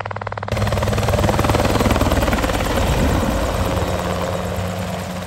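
A helicopter's loud engine whine and rapid rotor chop, steady and close, with a pulsing beat running throughout.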